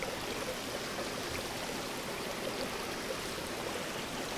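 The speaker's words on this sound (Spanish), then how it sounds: "nuevamente nos encontramos con otro riachuelo" A mountain stream on the high trail to Choquequirao in Peru, around 3,500 metres, rushes in a steady, full broadband wash of flowing water, close and continuous with no voices.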